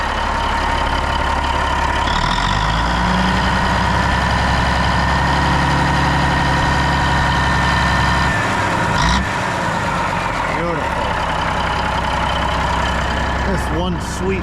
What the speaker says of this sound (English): I just love the sound of those gears in the front of this motor making that slight whine.